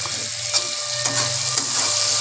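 Vegetables for vegetable chowmein sizzle steadily in a pan, a soft continuous frying hiss punctuated by a few light stirring scrapes, no talking.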